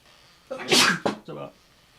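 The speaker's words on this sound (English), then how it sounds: "Oh, I'm gonna sneeze." A single sharp sneeze bursts out close to the microphone in a quiet room, with a breathy inhale, a loud explosive release and a short vocal trailing sound afterward.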